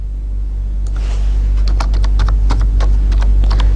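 Computer keyboard typing in short quick bursts of light clicks over a steady low hum, fairly close.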